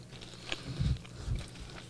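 Crunchy pizza crust at the Lighthouse Lounge being bitten and chewed close up: two soft crunching bites about half a second apart over a quiet room background, with no talking.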